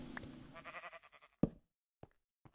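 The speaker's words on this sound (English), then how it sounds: "at least the sheep's doing something out there. It's making a noise." Sheep in Minecraft bleating in a short wavering call, followed by a few sharp knocks and clicks, fairly quiet and close, with no talking.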